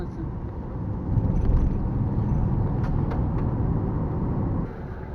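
A car rolls slowly along a road, its low engine and tyre rumble steady and fairly close, swelling slightly midway, with faint talk in the background.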